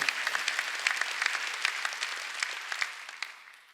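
Applause from a church congregation during a Sunday worship service, a dense steady patter of many hands clapping that fills the space and slowly tapers off at the end.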